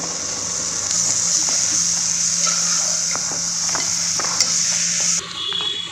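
Masala with fresh mint and coriander leaves sautéed for mutton biryani: a steady close sizzle with repeated scraping and tapping of a spoon against the pan, then a brief drop near the end.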